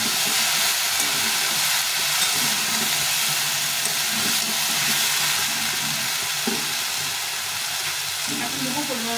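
Mixed vegetables fry in a pan with a steady, dense sizzle and hiss that holds at an even loudness throughout, with faint stirring knocks underneath.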